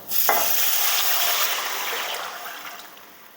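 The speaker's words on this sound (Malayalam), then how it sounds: "ഇതിലേക്ക് നമ്മൾ നേരത്തെ തയ്യാറാക്കി വെച്ചിരുന്ന പുളിവെള്ളം ചേർക്കാം" Tamarind water poured into a hot pan while making puli inji, a sudden hiss and sizzle that rises sharply and then settles into a steady, fading bubbling, with no talking.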